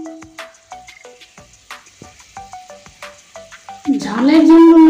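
Papaya and potato pieces with salt and spices frying in a pan, stirred with a utensil in a run of quick rhythmic scrapes and clicks over a soft sizzle, followed by a louder tonal sound at the end.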